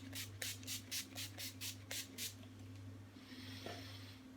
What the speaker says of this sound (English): Just going to give that a quick spritz.